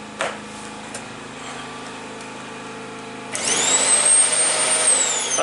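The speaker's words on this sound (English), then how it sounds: "obviously we've got next the Hoover. You've seen this one. It's 700 watt." A 700 watt Hoover vacuum cleaner powered by a petrol generator switches on partway through, its loud steady motor whine rising over the generator's background hum and holding to the end.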